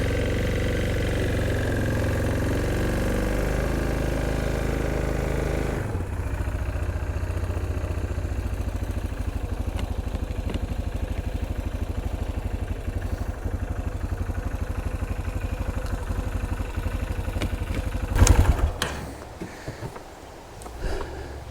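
An ATV engine idles steadily and fairly loud nearby, its tone shifting after several seconds and ending with a few clunks and a brief rise near the end.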